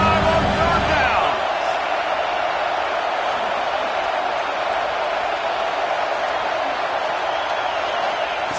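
Ohio State Buckeyes fans at a college football game roar on third down, a broad, loud, sustained crowd wash filling the stadium, with a brief voice at the start.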